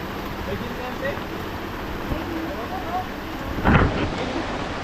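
Heavy, steady rain hiss fills the scene in the Philippines with low rumbles beneath, a brief louder splash or gust near the end, and faint voices in the background.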